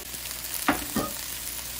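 Shrimp fry in a pan for seafood fried rice, a steady close sizzle with two brief stirring scrapes breaking through.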